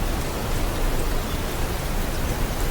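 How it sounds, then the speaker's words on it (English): Steady rain falling at night, a dense, even hiss of drops that holds at one level throughout with no breaks and no voices. "the rain is falling"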